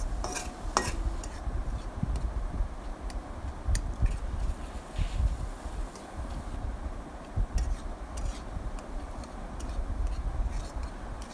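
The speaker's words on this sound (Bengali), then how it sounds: "এই জন্য আমি অনবরত নাড়তে থাকছি।" Boiled leafy greens being stirred continuously in a frying pan to dry them out, with soft scraping, irregular utensil clicks against the pan and a low simmering crackle underneath.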